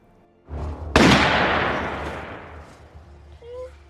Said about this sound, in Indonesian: dia lekas berlari menghampiri Andy karena mendengar suara tembakan